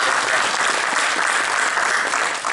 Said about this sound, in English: Everybody just to give them a round of applause for all the hard work.